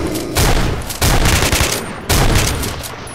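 Bursts of automatic gunfire from a weapon in the shooter game STALKER: Shadow of Chernobyl, three loud sustained volleys close up with short gaps between them.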